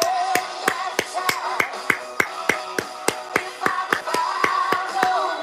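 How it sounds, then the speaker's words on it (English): Steady hand clapping, about three claps per second, sharp and evenly spaced over a faint background murmur. "we give them the clap."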